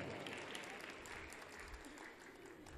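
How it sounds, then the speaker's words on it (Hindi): An audience at a ghazal recital applauds for the poet in a dense, continuous wash of many clapping hands, steady and moderately loud from start to finish. "जरा तालियां बजा दीजिए एक मर्तबा मोहतरमा के लिए"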